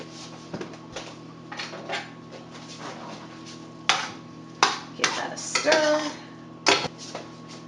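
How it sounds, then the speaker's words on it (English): Food with feta cheese being stirred in a pan, scraping and clinking of a utensil against the pan in short bursts, close and fairly loud, with a low hum underneath. "Give that a stir"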